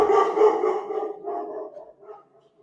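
Two dogs barking and howling outside in a drawn-out, wavering call that gradually fades, somewhat muffled.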